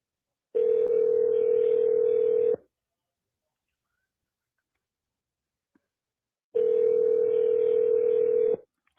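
A jail phone gives two steady dial tones, each lasting about two seconds, separated by a few seconds of silence. The tone is loud and clear with no voices.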